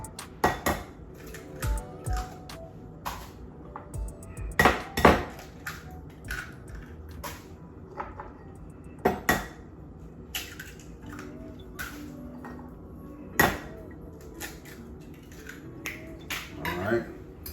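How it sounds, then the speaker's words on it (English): Eggs are cracked against a bowl for a French toast casserole, giving sharp, separate knocks and clinks spaced every few seconds, with a person talking between them in a kitchen. "So first things first, I'm gonna crack those eggs."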